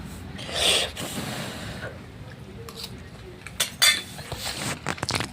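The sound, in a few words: spoon striking a plate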